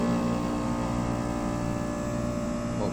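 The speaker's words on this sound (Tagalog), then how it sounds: "Tapos iti-testing na natin kung okay na ba yung tunog ng compressor." An air conditioner compressor in a ceiling concealed unit, an O General, hums in a steady, continuous drone with a smooth tonal buzz that stays at an even level with no voices.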